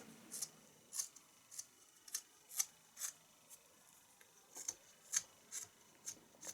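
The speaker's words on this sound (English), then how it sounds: "Finally, round off any sharp corners with your whittling knife." A whittling knife shaves and rounds the sharp corners of a small carved wooden bird, making about a dozen crisp, close scraping cuts in an irregular rhythm against a quiet background.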